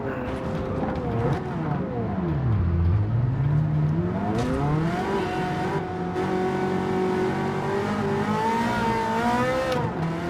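A race car engine in a racing video game revs hard at full throttle, loud and continuous, with its pitch dipping and then climbing again as it shifts through the RPM range. Occasional tire noise runs underneath.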